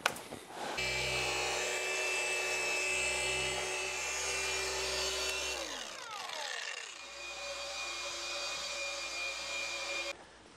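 Electric polisher buffing paint on a 1929 Ford hot rod, a steady close whirring motor hum that winds down mid-way, drops in pitch, then runs on again before cutting off.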